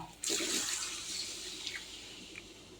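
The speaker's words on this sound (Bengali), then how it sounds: "এখন একটু জল দিয়ে দেব" Water poured into a pan of fish-head muri ghonto, a short splashing gush that starts abruptly, then settles into a softer bubbling wash with a couple of faint clinks.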